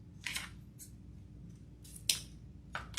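Scissors snip through wreath-making material for a fall blue truck wreath, several short crisp cuts spaced irregularly over a low steady background hum, close and fairly quiet.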